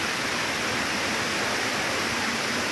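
Ramona Falls roars as a steady, broadband rush of falling water, loud and continuous with no pauses or voices.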